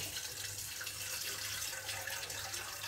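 Tap water runs into a kitchen container as water is prepared for a fruit juice and cake recipe, a steady close hiss that holds evenly for the whole stretch with no talk.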